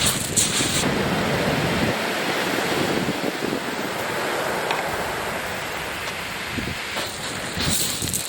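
Big swell of ocean surf rolling onto a shingle shore at Seaford Bay beach in the UK, a continuous loud wash of breaking waves with wind buffeting the microphone throughout, no voices.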